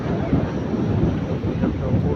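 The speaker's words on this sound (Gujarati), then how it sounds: "ફૂલ પવન છે આજે." Strong gusty wind buffeting the microphone outdoors at a farm plot, a low rumbling roar that swells and eases without pause.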